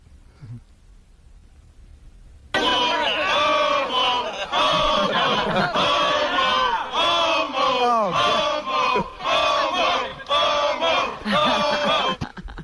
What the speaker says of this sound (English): Sit and sleep crowd ragging on Sal